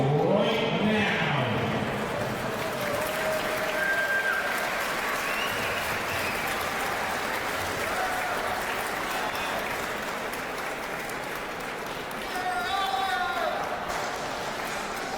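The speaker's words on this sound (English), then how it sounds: "please give a warm round of applause. Your semifinalists are entering the arena right now." Applause from an arena crowd at a table tennis team championship semifinal, steady clapping throughout with scattered cheers, while an announcer speaks over it.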